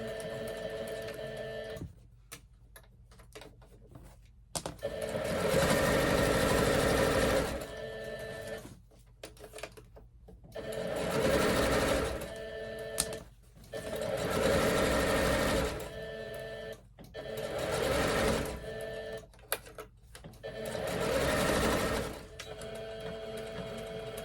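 A sewing machine stitches the waistband of a Christmas apron, running back and forth in several whirring bursts of a few seconds each, with quiet pauses between runs and close, steady mechanical chatter.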